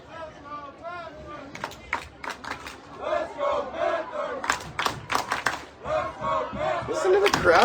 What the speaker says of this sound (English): Listen to the crowd get into it here.